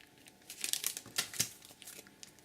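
Crinkly packaged paper sets for scrapbooking from Echo Park, 15 by 15 format, rustle and crackle in a burst of sharp, close handling sounds.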